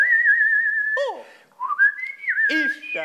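A human whistles an imitation of a nightingale's song: a long steady tone, then quick rising and falling warbles and trills in several phrases, close and clear with no talking.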